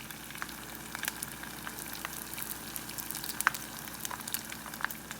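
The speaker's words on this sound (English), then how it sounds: "Stick it in the hot oil." Spring rolls in rice paper wrappers fry in hot oil with a steady, close crackling sizzle and scattered sharper pops throughout.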